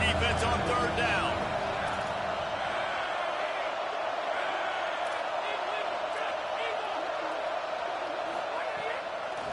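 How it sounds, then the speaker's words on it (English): Football stadium crowd roaring steadily during a college game on third down, a dense sustained wall of cheering at fairly constant loudness with a stronger swell at the very start. "Decibels rising as the crowd gets behind this defense on third down."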